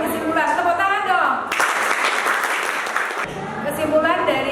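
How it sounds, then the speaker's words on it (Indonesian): High school students in a biology classroom break into a burst of clapping lasting under two seconds, with a teacher's voice speaking just before and after it. "Tepuk tangan dong."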